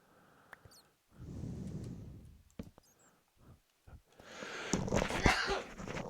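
A person sneezing while playing hardcore vanilla Minecraft, a quiet breathy intake and a short muffled burst, then a louder rushing exhale, with faint clicks around it.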